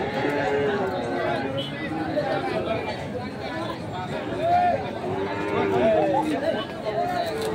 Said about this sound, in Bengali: বাছুর গরু আছে। আমরা দেখি আরো কিছু আপনাদের দেখাবো।